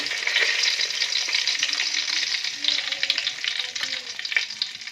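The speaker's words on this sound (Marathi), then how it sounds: "थोडासा मसाला तळायचा आहे" Whole spices crackle and sizzle in a small amount of hot oil over a wood-fired clay stove, a steady bright frying hiss with scattered pops, close and continuous with no talk.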